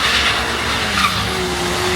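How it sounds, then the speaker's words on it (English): A regular BMW drifting at an illegal car meet in Belgium, its tires squealing loudly and continuously over a revving engine for the full two seconds. "you can drift literally every car from BMW"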